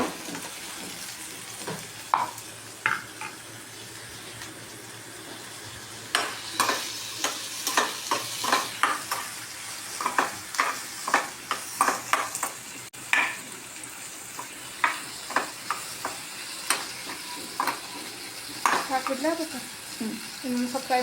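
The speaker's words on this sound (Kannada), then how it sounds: "ಇದನ್ನು ನಾನು ಇಷ್ಟೊತ್ತು ಲೋ ಫ್ಲೇಮ್ ಇಟ್ಕೊಂಡು ಫ್ರೈ ಮಾಡೀನಿ" Masala ingredients frying on a low flame for an egg masala gravy, with a soft continuous sizzle under repeated spatula strokes scraping and tapping the pan, close by and rhythmic across the whole stretch.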